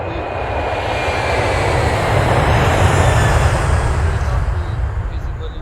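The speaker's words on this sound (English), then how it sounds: "The drone is continuously flying" A drone flies overhead at a village fieldwork site, giving a steady, loud broadband whir that swells slightly mid-clip and holds without a break.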